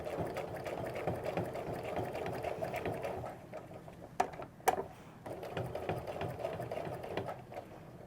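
Sewing machine doing ruler work, stitching straight lines through batting on a quilt, a faint, steady, fast chatter that runs continuously with a brief slowdown and a couple of small clicks midway.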